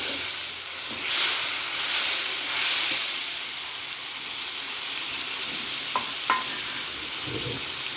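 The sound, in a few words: frying onion with mustard paste and spices in pan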